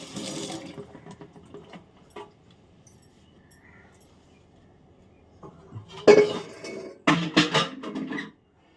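Tap water runs over corn cobs as they are washed in a kitchen sink, with soft splashing and a few clinks, then louder gushing bursts near the end.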